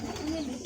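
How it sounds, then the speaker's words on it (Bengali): Kept pigeons cooing close by, a short low throaty coo sustained through the brief moment with faint background noise and no talk. "এই যে এখানে পায়রা, এই পাশে, এই পাশে, এই পাশে দেখ, ওই সাদা।"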